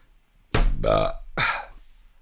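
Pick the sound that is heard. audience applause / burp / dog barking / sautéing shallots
burp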